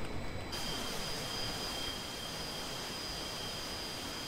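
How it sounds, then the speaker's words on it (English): Aircraft engine at full thrust while climbing in the flight simulator Aerofly FS 2: a steady, loud jet roar with a constant high whine, unbroken for several seconds and no talking. "And it'll climb at 199 knots, and I am still at full thrust."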